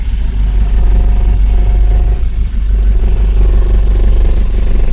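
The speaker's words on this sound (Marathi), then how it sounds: "ट्रॅफिक बघा तिथे" Loud, steady road traffic rumble with heavy engines droning nearby, no voices.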